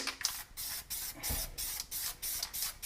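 Aerosol spray can releasing blue paint in a run of short, close hissing bursts separated by brief pauses, part of a nighttime landscape being spray-painted as urban art.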